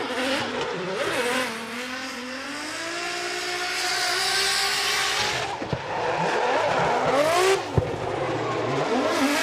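A Formula Drift Japan car's 2JZ engine revs hard and roars continuously, with rising and falling pitch, tire screeching, and a sharp pop near the end.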